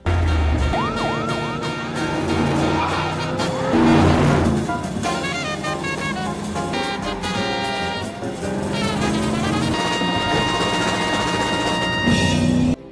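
Police chase from a gangster film, a stolen car fleeing pursuing officers: loud wailing sirens rise and fall over engine noise and traffic, with swooping tones and a steady dense backdrop.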